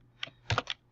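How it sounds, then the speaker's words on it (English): Computer keyboard keys clatter in two quick bursts of a few close, crisp keystrokes, with brief silence between them. "tired of typing this"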